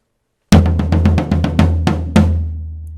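A single drum struck in a quick fill, about ten sharp hits in a fast, slightly uneven run, with a low sustained tone ringing underneath.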